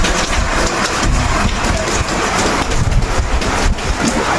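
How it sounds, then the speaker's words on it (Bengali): Heavy torrential rain pours down outdoors in a steady, dense hiss that stays loud and unbroken from start to finish, with no voices. "আরো জোরে মুষলধারে বৃষ্টি নেমে গেছে"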